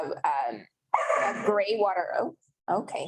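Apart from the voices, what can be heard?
dog barking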